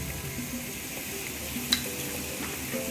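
Ramen topping simmers in a pan just after soy sauce goes in, a soft, low-level sizzle that stays even throughout, broken by one brief clink midway.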